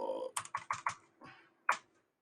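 Keys tapped on a computer keyboard, a quick run of four sharp clicks, a softer one and a final isolated click, close and clear in a quiet room.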